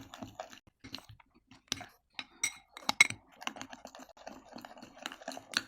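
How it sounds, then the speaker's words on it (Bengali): Body bleach ingredients being mixed in a bowl give a close run of quick irregular clicks and light clinks, like a spoon tapping and scraping the bowl, with no talking. "খুবই ভালো করে এটা মেশাতে হবে।"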